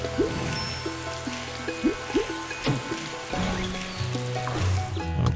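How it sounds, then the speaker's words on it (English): Rain pours from a cloud onto garden plants in a Strawberry Shortcake video game, a steady watery patter over light chiming game music with a few plucky tones. "Rain from a cloud will water our plants!"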